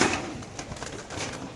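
Caged pigeons at a pigeon market give soft, close cooing calls in a short burst, with no talk over them.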